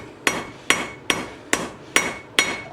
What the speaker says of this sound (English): when you come in and you hammer the bevel in